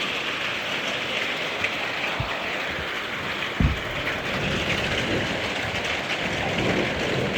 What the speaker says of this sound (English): it's actually raining a lot. That's why the audio is kind of funky.